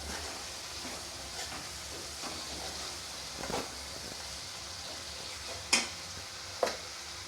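Coriander powder stirred and sautéed in a hot pan for a Tamil vathal kuzhambu, giving a steady soft sizzle with occasional scraping strokes and two sharper clinks near the end, no talking.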